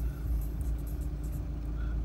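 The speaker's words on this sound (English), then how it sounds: "I'm going to start the car up and show you that it runs and drives free from any defect" Audi A4 Avant with a 6-speed manual and 82,000 miles running, its engine a steady low rumble close by with no voices.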